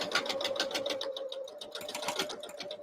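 A sewing machine stitches through Kraft-Tex while making a tote bag, a steady rapid chatter of needle strokes with a sustained motor whine, close and continuous throughout.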